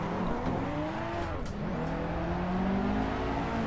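A race car engine revs hard and sweeps up and down in pitch during a tandem drift in Assetto Corsa, loud and continuous, with a second car's engine layered close behind and a brief tire squeal.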